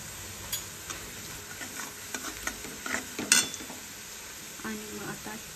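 Onions, salted to brown faster, fry in a pan while being stirred, giving a quiet sizzle under scattered spoon scrapes and light clinks, close and fairly soft.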